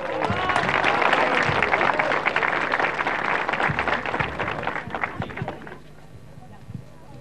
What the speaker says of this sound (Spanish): fuertes los aplausos para la niña